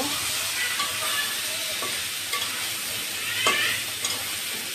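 Boiled, cleaned mutton liver tipped into masala frying in a pan, a steady close sizzle and hiss with a few stirring scrapes and clinks, no voices.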